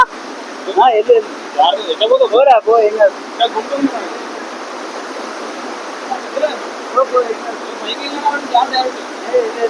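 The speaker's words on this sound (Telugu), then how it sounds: "ఫస్ట్ చిన్న వాటర్ ఫాల్స్" Small waterfall at a hidden spot in Telangana, a steady broadband rush of falling water running throughout, with people talking over it in the first few seconds and again later.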